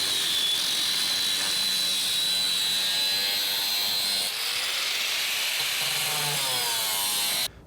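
Power saw cutting through a metal bottom tab on a boat slider, a loud, steady high-pitched whine with grinding texture that runs without a break for about seven seconds, then cuts off abruptly.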